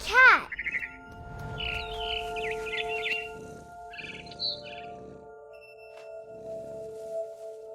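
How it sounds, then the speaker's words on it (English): A barn swallow chirps in What Remains of Edith Finch: a quick burst of high, sweeping calls, then twittering warbles in short bursts over a steady tonal hum and soft background ambience. "It was a barn swallow going back to her nest."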